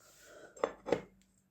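Two light ceramic clinks in quick succession, close by and faint, like old German-made plates knocking together.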